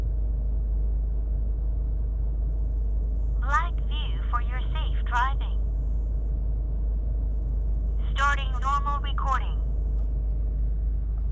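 A BlackVue dashcam rebooting after a firmware upload gives two short bursts of electronic chime or voice-prompt tones, a few seconds apart, over a steady low hum.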